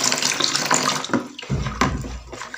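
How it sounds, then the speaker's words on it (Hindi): Water pouring into orange juice, a steady splashing stream up close for about a second and a half, then a lower gurgling fill with a few splashes as it settles. "1/2 कप हम इसमें पानी डालेंगे।"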